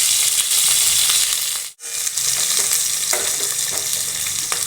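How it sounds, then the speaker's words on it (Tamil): Garlic frying in hot oil in a pan, a loud continuous crackling sizzle with a brief drop to near silence in the middle before the sizzling resumes, accompanied by light scraping and clinking. "எண்ணெய் ஊற்றிட்டு அடுப்பில் வெள்ளைப்பூண்டு போட்டுக்கிறேன்"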